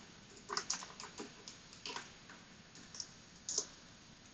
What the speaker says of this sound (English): Write git commit and m for message, and we'll just write my first commit.